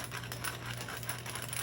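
A pepper grinder turns a couple of times over peppercorns, producing a soft, quick gritty rattle of closely spaced crunches, faint and close by.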